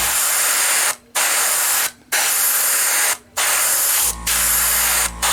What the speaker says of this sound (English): I'm just using the Tamiya flat flesh as my primer coat.